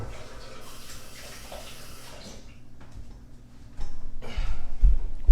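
Tap water runs steadily over a new silicone kitchen tool being washed in a sink, a continuous hiss that grows louder and more splashy toward the end with a few low bumps.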